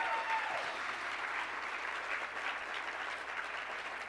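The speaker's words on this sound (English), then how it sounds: "Cue the applause." Steady applause from a college audience at a faculty lecturer of the year award ceremony, sustained and even throughout with no speech over it.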